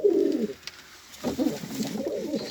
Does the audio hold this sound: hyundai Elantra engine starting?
no